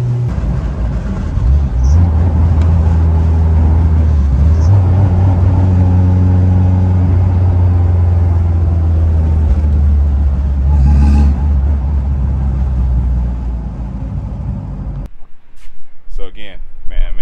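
A turbocharged K-swapped Honda CR-V idles and revs with a deep, throaty drone through its Vibrant muffler, the low rumble rising and holding steady before cutting off near the end, with a voice talking over it.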